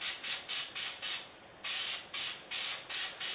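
Lacquer is sprayed in a regular coat over a decal on a tote, a close, loud aerosol hiss in rhythmic bursts of about a quarter second each, with one longer pause midway and no talk.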